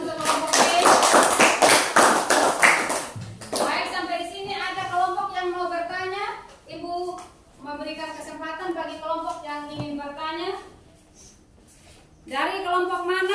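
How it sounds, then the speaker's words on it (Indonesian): A classroom audience applauds a student group after its presentation: a dense burst of clapping for about three seconds, then a voice talks on without it. "Tepuk tangan untuk kelompok D."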